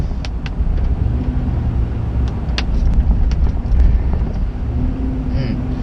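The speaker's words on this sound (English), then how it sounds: "I really like that throaty intake note that an air filter system like this gives you" A Chevy Silverado 2500HD pickup fitted with an S&B air intake accelerates with a low, throaty engine and intake rumble heard from inside the cab, steady and fairly loud with faint clicks.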